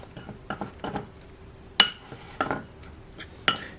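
Irish soda bread dough with fruit spread being mixed in a bowl: about seven irregular clinks and knocks of a utensil against the bowl, close and fairly quiet, with soft stirring between them.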